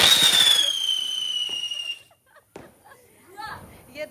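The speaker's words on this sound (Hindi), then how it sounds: "जैसा चिचाट ये करता है ना वैसे ही ये पटाखा भी कर रहा है।" A Diwali firecracker lets out a shrill, falling whistle for about two seconds, then a few scattered pops and crackles follow, with children's voices nearby.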